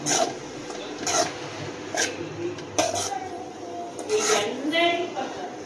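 Salted grated beetroot stir-fry is stirred in a pan, giving soft scraping strokes at a steady pace under continuous talking.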